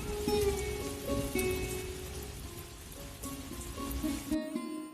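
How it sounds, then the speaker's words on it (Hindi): Heavy evening rain falls over a village, a steady dense patter on surfaces with soft background tones. "कल शाम को हमारे गांव में बहुत तेज वर्षा हुई थी।"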